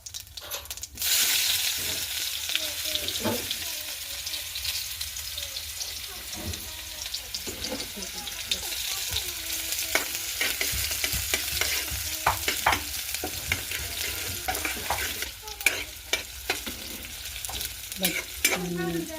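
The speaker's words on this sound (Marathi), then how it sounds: "तसं आपण सुरुवातीला तेल टाकून घेतलं आहे त्याच्यामध्ये थोडेसे जिरे टाकणार आहोत" Cumin seeds frying in hot oil for a fresh coconut chutney, a steady close sizzle with scattered ticks and spoon clinks as they are stirred, no talking.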